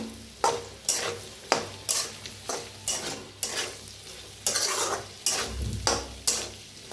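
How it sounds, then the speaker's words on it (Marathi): A spoon stirs a spice mixture of turmeric, coriander powder, red chili and salt in a hot pan, scraping in a regular rhythm of about one stroke per half second over a continuous sizzle, close and clear without speech. "छान असं मिक्स करून घेऊया"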